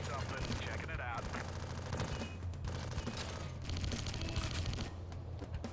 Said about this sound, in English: I love this minigun on the armored armed car.